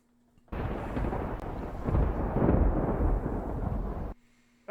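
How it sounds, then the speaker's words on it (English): Storm thunder in an audio drama: a loud, sustained rolling rumble that starts abruptly, swells in the middle and then cuts off, with quiet before and after. "it's just always stormy in Hatchetfield, isn't it?"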